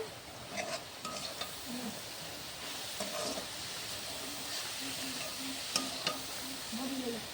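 Grated coconut filling with sugar, ghee, cardamom and bay leaf cooks in a pan over a high flame, giving a soft continuous sizzle with repeated light scrapes of a spatula stirring.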